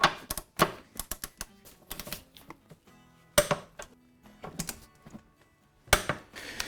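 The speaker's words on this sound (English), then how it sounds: "Let's torque these down" A torque wrench tightens the top shock bolts on a 2018 Dodge Charger, producing bursts of sharp ratcheting clicks separated by short pauses, close and clear.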